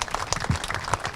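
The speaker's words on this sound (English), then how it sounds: "So I'd like to give him another big round of applause." A short burst of applause from a crowd, steady clapping filling the moment.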